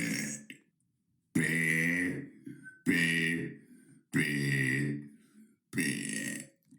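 A person burps loudly and close up, five drawn-out deep eructations in steady succession with brief silent gaps between them.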